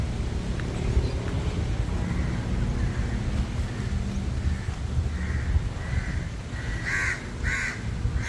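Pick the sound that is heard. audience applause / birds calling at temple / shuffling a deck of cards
birds calling at temple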